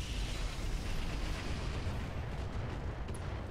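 Mech weapons firing in the BattleTech mod Roguetech, a dense, steady barrage of rumbling blasts and booms that runs without pause, loud and close, with no voices over it.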